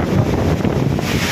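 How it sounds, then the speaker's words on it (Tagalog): Strong storm wind during heavy rain and flooding, a loud, rough roar buffeting the microphone, continuous and close for a brief moment with no talk. "Lakas ng hangin."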